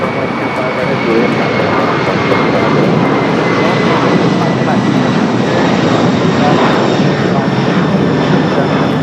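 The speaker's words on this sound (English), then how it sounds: "We do have a United Dreamliner, another one, believe it or not, arriving on the north side." A United Dreamliner airliner arriving at LAX, a loud, steady jet roar with broad rushing noise and a faint whine, holding constant and close for the whole stretch.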